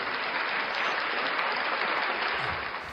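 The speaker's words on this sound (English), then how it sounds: "Round of applause for you all." A crowd at an evening fundraising event applauds in a continuous, dense round of clapping, loud and even before tapering off at the end.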